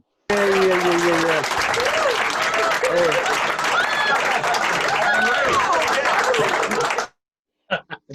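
A crowd at a parlour magic show bursts into loud, sustained applause and cheering, a dense roar of clapping that holds steady for several seconds before cutting off abruptly, with voices heard under it.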